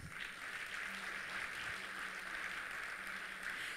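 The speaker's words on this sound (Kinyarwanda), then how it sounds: "Tubakomera amashyi." An audience applauds steadily throughout at the launch of SHAPED, with dense, even clapping from a crowd and no voices over it.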